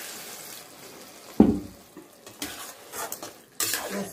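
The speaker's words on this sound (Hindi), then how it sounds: "इसमें थोड़ी सी पानी डालेंगे।" Water poured into a pan of frying aloo gobhi curry sets off a sudden sizzle, followed by scattered stirring and utensil clinks against the pan, fairly close and moderately loud.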